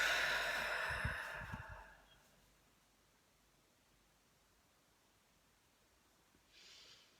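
A long, deep breath during a guided meditation, a loud rushing exhale lasting about two seconds, then near silence with a faint breathy rustle at the end.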